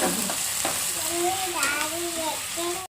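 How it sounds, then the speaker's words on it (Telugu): Ginger paste fries in hot oil with a loud, constant close sizzle and light stirring, while a faint voice murmurs in the background. "అల్లం పేస్ట్ని దోరగా వేయించుకోవాలి"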